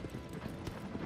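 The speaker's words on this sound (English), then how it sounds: "I'm calling for the horse. Come here, bro." Horse hooves clip-clopping in the Shadow of the Colossus video game, a short quiet burst of several quick hoofbeats under faint background noise.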